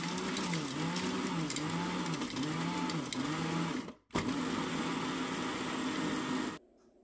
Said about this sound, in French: je le fais moudre jusqu'à l'obtention d'une pâte.